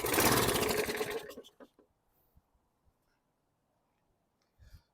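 A previously dead lawn mower engine fires off and runs rattly for about a second, loud and close, then quickly sputters and dies into near silence, with a few faint clicks and a brief sound at the end.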